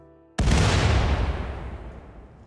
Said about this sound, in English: Wooden bridges now go poof.